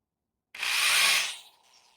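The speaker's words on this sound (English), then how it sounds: "So I like to take a drill, stick a Q-tip in there, a little bit of metal polish." A handheld drill spins a cotton swab dabbed with Brasso metal polish inside a Piaggio Ciao moped's port, whirring in one close, steady burst for about a second before winding down.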